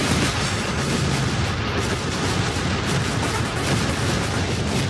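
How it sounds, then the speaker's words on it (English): A player ship blowing up in the Asteroids-style space shooter Echoes+, heard as a dense, continuous roar of blasts and crackling explosions filling the whole stretch without a break. "Oh no, I'm about to blow up."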